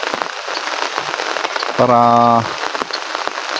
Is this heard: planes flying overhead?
no